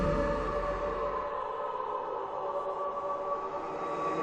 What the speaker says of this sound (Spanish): antes de que llegue el tranvía.